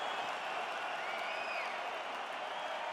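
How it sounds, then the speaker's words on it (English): Crowd applause and cheering in the UFC 5 video game after a round, a steady wash of clapping at moderate level with faint voices mixed in throughout. "So the crowd voicing its appreciation after that round."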